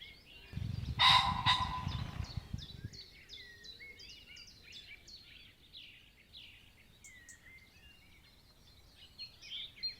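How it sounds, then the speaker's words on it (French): Various birds calling in a quiet home garden, a scatter of faint, high chirps and short whistles from a distance, with a brief low rumbling disturbance near the start. "Notre jardin est devenu un havre de paix pour quelques dizaines d'espèces d'oiseaux."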